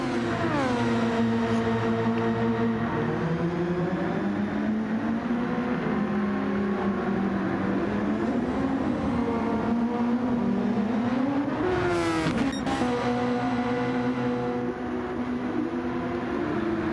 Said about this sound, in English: You can just listen to these beautiful cars while I sit on my phone.